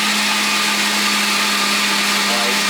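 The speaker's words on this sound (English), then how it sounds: "got the old school blender, but it works just fine." An old blender blending a fruit smoothie runs steadily at high speed, a loud continuous whirring motor grind with a constant pitch and no breaks.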